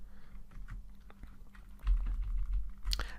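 Computer keyboard typing an email subject line: a burst of irregular soft key clicks and taps, fairly close, with a denser thumping patch toward the end, no voices.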